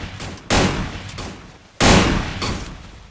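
Two bursts of gunfire from the Free Fire video game, each a loud sudden volley that trails off, about a second apart.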